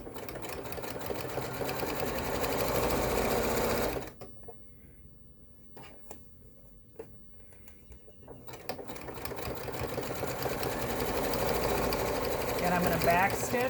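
A sewing machine runs steadily in straight-stitch mode, stops for a few seconds of near silence with faint clicks, then resumes its busy whirring stitching to the end, close up and loud.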